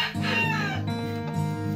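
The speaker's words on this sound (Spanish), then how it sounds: "Esta gallinita la estoy sacando con el gallo" Exhibition-line hen clucking close by in a poultry yard, one continuous harmonic call that lasts under two seconds, clear and alone with no talking.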